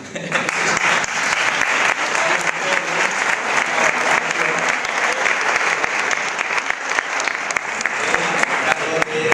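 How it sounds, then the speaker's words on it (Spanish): Loud, sustained applause from a large audience at a poetry event, steady dense clapping filling the whole stretch without a break. "yo pido también un aplauso"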